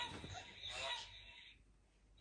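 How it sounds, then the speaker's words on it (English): A Homcom swan baby rocker toy plays a recorded swan call at a button press, a faint, bright, slightly harsh honking burst lasting under two seconds, with no talk over it. "And this is the sound of a swan,"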